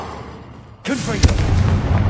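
A Confringo fire spell bursts in Hogwarts Legacy, a sudden loud blast cutting in after near quiet, followed by a booming impact and a sustained crackling, roaring tail.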